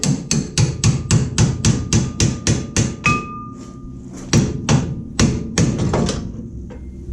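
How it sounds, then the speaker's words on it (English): A hammer strikes a pickle fork to knock out the spindle on a C3 Corvette, giving a fast run of loud metallic blows, then a pause and several more spaced hits. "now we should be able to knock the spindle right out of here."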